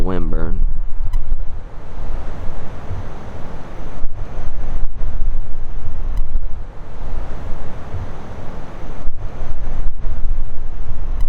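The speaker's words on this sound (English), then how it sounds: "we'll be sitting in this wind, collecting a little wind burn." Strong wind on Florida public land during a hunt, roaring and buffeting the microphone as a loud, continuous rush with gusting swells, and a brief voice near the start.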